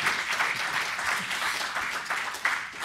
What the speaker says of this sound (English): So I appreciate the applause.